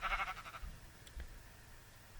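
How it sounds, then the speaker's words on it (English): A sheep in a video game gives a short bleat, fairly faint, followed by a couple of soft thumps against a quiet background. "I'm having like dogs and sheep constantly making"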